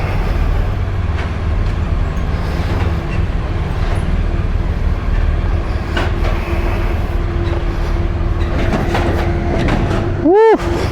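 A train carrying a BMW R1250R motorcycle to France, a loud steady rumble and rattle of the carriage throughout, with a rising whine near the end and people talking briefly.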